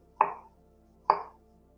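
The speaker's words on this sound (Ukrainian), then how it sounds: "І зелену цибулю нарізаємо теж більш крупнішими" Two sharp, close knife chops through green onion, about a second apart, each a crisp thud with a short tail and quiet between them.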